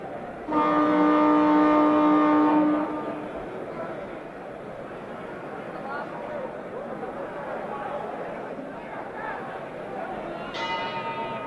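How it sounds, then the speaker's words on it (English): A boxing ring bell signals round 8 at Muhammad Ali's fight against Oscar Bonavena. It rings loud and sustained for about two seconds, then fades into a steady crowd din, with a brief ring returning near the end. "The bell for round 8."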